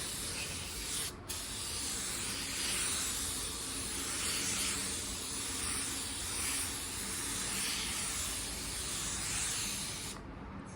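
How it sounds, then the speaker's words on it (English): A spray gun lays a medium basecoat of paint onto a car bumper in a steady, continuous loud hiss that runs nearly the whole stretch, with a brief pause near the start and a cutoff at the end. "you'll shoot a medium coat and then you'll come right back and shoot another medium coat"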